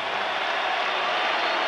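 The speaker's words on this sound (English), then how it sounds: "how about a round of applause for a young challenger here tonight who showed a great amount of courage and fighting heart" Boxing arena crowd applauds challenger Bert Cooper after his heavyweight bout against Evander Holyfield, a dense, steady wash of clapping from a large audience, heard at a distance without any clear voices.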